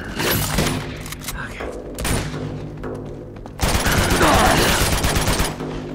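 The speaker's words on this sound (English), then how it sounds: "Just shoot a lot. That's the key. Just keep shooting." Heavy automatic gunfire from the video game Uncharted 2, rapid bursts of shots that ease off briefly and return louder, with a voice talking over parts of it.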